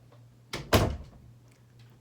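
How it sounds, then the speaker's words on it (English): A bedroom door swung shut indoors: a brief swish followed by a loud, close thump as it closes, then quiet room hum. "let me shut my door real quick"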